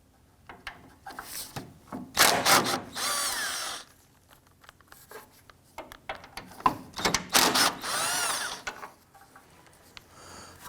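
A power drill backs 8mm screws out of the header panel on a 1994-2004 Ford Mustang, several short, loud whirring bursts separated by pauses and faint handling clicks.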